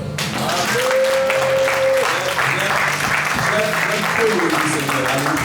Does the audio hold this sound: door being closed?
no